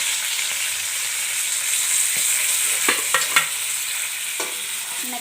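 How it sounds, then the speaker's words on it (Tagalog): Alugbati greens fry and sizzle in a pan with a steady bright hiss, while a spatula stirs them in a few sharp scraping clicks near the middle. "Mekos-mekos para hindi masunog."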